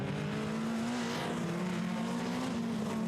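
TVR Challenge race cars at Snetterton, turning left then right through the S's, give a steady, loud engine drone with a shifting pitch as they pass. The roar stays close and continuous for the whole stretch, with no voices over it.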